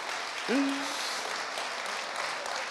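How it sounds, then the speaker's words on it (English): Audience in a church vision gathering applauds in a steady, moderate wash of clapping, while a brief vocal cheer or exclamation rises over it near the start. "Give a round of applause."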